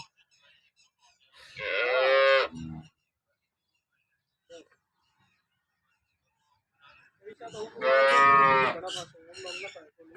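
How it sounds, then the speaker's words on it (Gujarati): Local cows at a cattle market lowing, two long loud moos separated by several seconds of near silence, close to the listener. "ગાય ત્રીજા વેતરની છે નીચે વાછડો છે"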